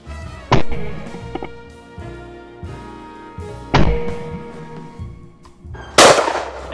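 Shotgun firing at a clay target outdoors, with three sharp loud cracks spaced a few seconds apart, each trailing off into ringing, among faint background sounds.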